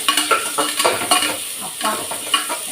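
Lengthwise-sliced onions fry and are stirred in a pan for coconut milk rice, giving a close crackling sizzle punctuated by repeated scrapes and clinks of a spoon, with no talking.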